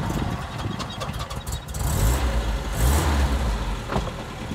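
Datsun 260Z engine starting and then running steadily, a low rumbling idle building up and holding close by with no talk over it.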